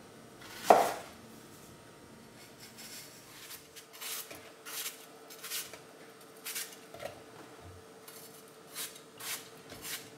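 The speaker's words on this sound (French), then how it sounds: "on va couper les pommes, on va les peler" A knife cuts and peels apples for a Christmas compote, giving one sharp knock at the start and then soft, irregular scraping and slicing strokes, close and quiet, with no talking.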